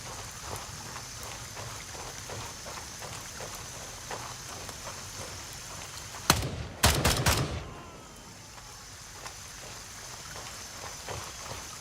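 Rain falls into puddles in the Gray Zone Warfare video game, a steady patter with evenly spaced drips, broken partway through by a loud burst of gunfire.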